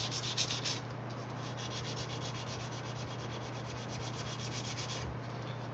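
Steady, close rasping strokes of hand sanding on a soft forged knife blade with 320-grit abrasive, a continuous rhythmic scratchy rub with a faint low hum beneath.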